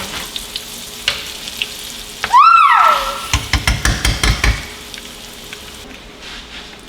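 Catfish cakes fry in hot oil with a steady close sizzle. Partway through, a brief rising tone sweeps up, then a quick run of sharp clicks follows before the sizzle settles back.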